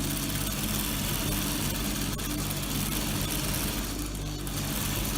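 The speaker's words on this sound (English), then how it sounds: "So watch how I'm going to sew the dart." A sewing machine stitches a dart on a women's shirt, a steady close mechanical whir with a fast rhythmic needle chatter running continuously throughout.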